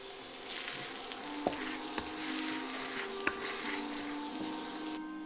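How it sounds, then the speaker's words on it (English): Shallots, garlic and dried shrimp fry in a pan over medium-high heat for pad thai, giving a steady close sizzle broken by a few sharp utensil clicks, with no talking. "medium-high heat, in goes the shallots and garlic. Followed by dried shrimp,"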